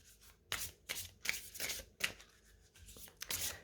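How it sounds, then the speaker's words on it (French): A deck of oracle cards is shuffled by hand in a quiet room, making soft, close riffling bursts in several quick rounds separated by brief pauses. "je vais faire d'abord mélanger mes cartes"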